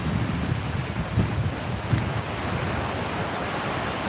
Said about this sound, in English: The waves are putting Kim to sleep.